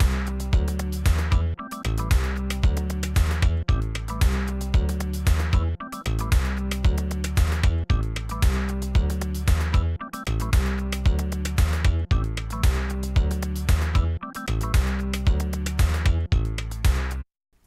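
A Korg Wavestate synthesizer patch plays the verse of a song, with a driving bass line, string-like counter melody and drums in a tight, repeating loop that stays loud and steady without any voices.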